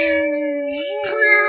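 A single drawn-out meow, clearly a person's voice mimicking a cat, rising slightly at the end.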